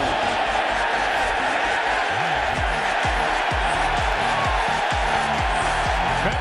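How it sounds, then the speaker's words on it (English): Dense roar of a stadium crowd at a 2015 Mets versus Royals World Series game, a sustained wash of cheering and chatter, with rhythmic low thumps and an announcer-like voice woven underneath. "Listen to this crowd."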